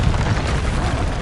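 Confringo blast in Hogwarts Legacy, a brief dense booming burst with rumbling low noise throughout, loud and close.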